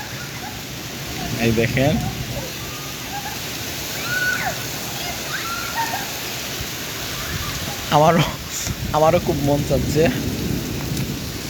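A Kalbaishakhi storm in Sylhet brings steady heavy rain hissing on surfaces, with rumbles of thunder rolling in at intervals, while people talk over the downpour.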